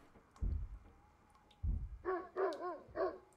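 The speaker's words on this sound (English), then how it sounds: "There's a dog barking now." A dog barks in the Project Zomboid video game, a few low thumps followed by a run of clear, fairly close barks and yelps at an uneven pace, heard alone without talk.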